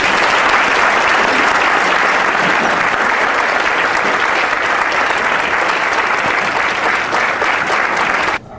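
An audience applauds to welcome a senator onto the stage at a talk on the history of planning in Florida, dense sustained clapping from a large crowd that stays steady for about eight seconds before cutting off abruptly.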